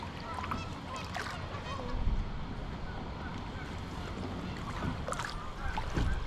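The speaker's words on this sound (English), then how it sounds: "I think I've spotted 4 or 5 different species of duck already. Geese." Geese honk intermittently at a distance on a flooded river where kayaks are touring, mixed with paddle and water noise and a steady outdoor wash in the background.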